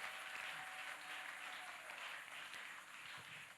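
A church congregation applauding its mothers during a Sunday service, steady faint clapping from many hands spread across the room, distant and continuous, with no talking.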